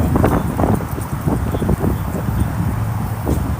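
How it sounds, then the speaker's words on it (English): Strong wind buffets the microphone outdoors in Cranston, Rhode Island, a steady low rumbling roar with gusty bursts across the whole stretch, loud and close, with no talk over it. "Apologize for the wind."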